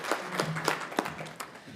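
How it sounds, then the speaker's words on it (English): Sparse applause at a conference event welcoming a speaker to the stage: a handful of separate claps ringing out over roughly two seconds, faint and thin, like a small audience clapping lightly. "Please, a round of applause."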